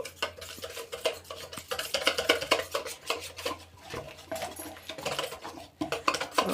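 Paneer tikka marinade with food colouring stirred by spoon in a metal bowl, giving steady scraping, clinking strokes that continue throughout at close range with no voices.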